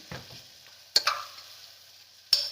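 Spices fry in hot oil in a pan with a soft sizzle, broken by a few sharp clinks of a spoon stirring against the metal.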